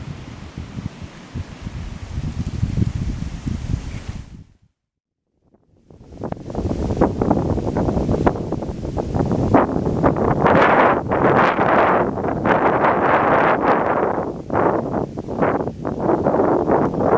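Strong wind blowing through thick Minnesota big woods during an October bowhunt, gusting and buffeting the microphone in loud rushing waves that briefly drop away to near silence before surging back harder.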